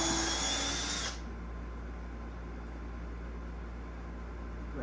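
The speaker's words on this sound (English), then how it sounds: "We'll pre-drill this in and then" Power drill pre-drilling a timber stair tread for deck stairs runs loud and close for about a second, then cuts off, leaving a low steady hum.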